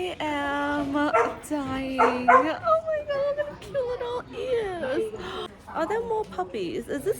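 Puppies at a small dog cafe in the mountains near Dalat, Vietnam, yip, whimper and bark in high, wavering bursts up close while someone talks excitedly over them throughout.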